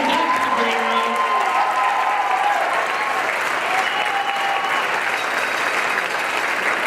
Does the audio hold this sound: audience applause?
yes